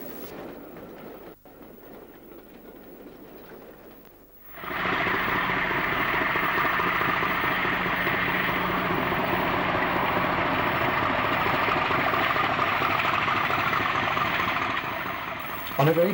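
A diesel-hauled passenger train on the Newquay branch in Cornwall, running from Paddington in July 1987. A quieter outdoor ambience gives way to a loud, sustained roar of engine and rolling coaches that holds close and steady to the end.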